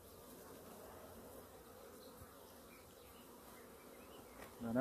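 Honey bees buzz steadily at an open beehive during a varroa mite count, a continuous low drone with a soft, even hum and no talk.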